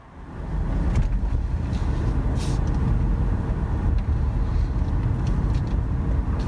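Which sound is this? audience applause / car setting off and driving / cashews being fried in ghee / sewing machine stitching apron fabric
car setting off and driving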